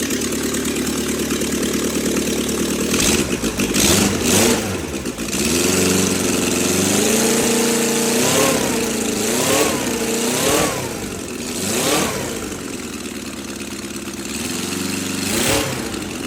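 Military-surplus 4A032 engine fitted with quad carburetors and headers cranks, fires and settles into a loud, steady running note, with the revs rising and falling in several swells toward the end.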